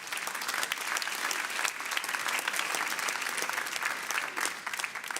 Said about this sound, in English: A round of applause for all of our nominees,